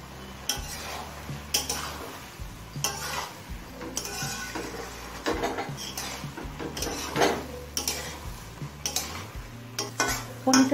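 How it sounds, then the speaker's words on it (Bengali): Fried paneer and broccoli being stirred into navaratna pulao, a spoon scraping and clinking against the pot in repeated strokes over a low sizzle, close and fairly loud. "পনিরটা দিয়েও ভালোভাবে মিশিয়ে নিয়েছি।"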